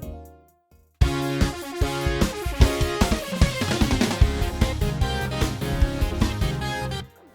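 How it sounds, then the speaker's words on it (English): A game soundtrack melody on synth and electric guitar starts after a near-silent second. It plays loud and dense over a busy backing, then cuts off abruptly near the end. "what's more catchy than a synth and an electric guitar?"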